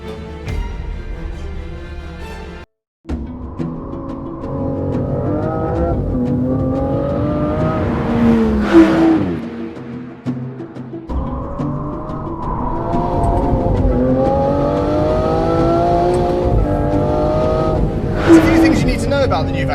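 A 2025 Aston Martin Vanquish with a 5.2-litre twin-turbocharged V12 making 824 horsepower accelerates hard. The engine note climbs loudly in two sustained runs, separated by a brief silent cut near the start.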